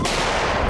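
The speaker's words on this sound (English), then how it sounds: "A precise, clean shot dropped one of them right where it stood." A hunting rifle shot during a wild boar hunt, a single loud report that fills the short moment and rings out with a broad, sustained tail.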